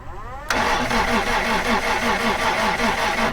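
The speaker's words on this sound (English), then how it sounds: "We're gonna crank it and watch it spin one time." A Toyota Tacoma that won't start cranks over on its starter, a sudden onset into a steady, loud, rhythmic whirring churn lasting about three seconds, close up and without speech.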